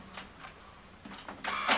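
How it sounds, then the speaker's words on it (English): An AirPrint-connected printer starts up to print, giving soft mechanical shuffles that build into a louder whirring feed toward the end, heard alone without talk. "It's opened up and it'll be printing in any moment now."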